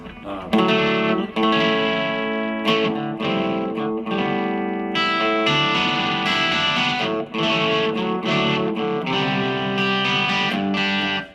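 Electric guitar through a Marshall MG15 MSII amp, played with moderate distortion: strummed chords and short riffs with pauses between phrases, loud and close, no voices.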